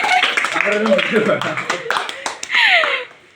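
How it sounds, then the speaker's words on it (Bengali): Quick bursts of hand clapping at a birthday celebration ring out over continuous chatter and excited voices, fairly close and lively throughout. "হাততালি হাততালি"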